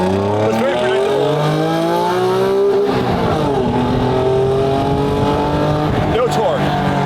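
An Acura NSX engine revs and drones steadily from inside the cabin while driving, loud and continuous with shifting pitch, with road and wind noise beneath.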